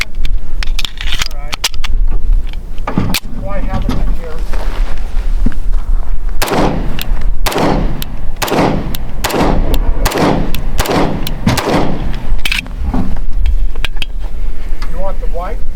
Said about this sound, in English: Seems to be shooting right to the sights, which is good.